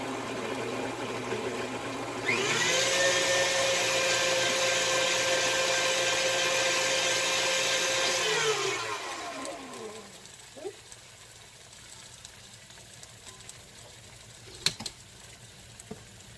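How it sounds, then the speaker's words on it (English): A KitchenAid stand mixer with a spiralizer attachment turns zucchini into noodles, a steady loud motor whine for about six seconds that winds down, followed by faint clicks and handling sounds. "when I turn on the KitchenAid, we get spiralized zucchini"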